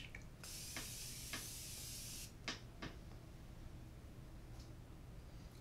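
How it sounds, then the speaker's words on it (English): Aerosol makeup spray hisses in one long burst of about two seconds while being applied to the neck, then a few short sharp clicks and spritzes follow amid quiet room noise. "So this one comes out more like an aerosol than that other one."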